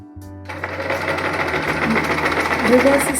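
A Singer Promise 1409 electric sewing machine starts after a brief pause, then runs in a fast, steady mechanical whir with rapid needle clatter, close and loud, building slightly in speed.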